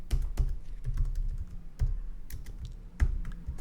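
Code being typed on a computer keyboard: quiet, close, irregular key clicks in small bursts with short pauses, with no talking.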